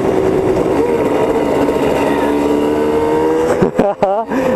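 Steady engine drone from a BMW 800 GS dual sport motorcycle being ridden in the Czech Republic, holding loud and continuous before wind buffeting breaks in near the end.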